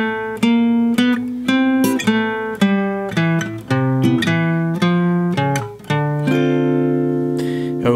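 Solo jazz guitar plays a slow ii-V-I in C, with plucked chords over a walking bass line of single low notes. Each hybrid-picked attack rings clearly and close, and the last chord sustains alone.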